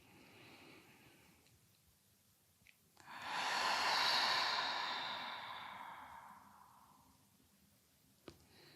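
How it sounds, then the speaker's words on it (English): A long, slow breath in a yoga class, drawn in through the nose and released through the mouth in a broad, airy exhale that swells and fades over several seconds, close and alone with no talking. "Inhale nose. Exhale mouth. One more."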